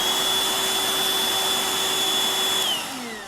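A vacuum cleaner runs loud and close with a steady whine and motor drone, then its pitch slides down as it begins to wind down near the end.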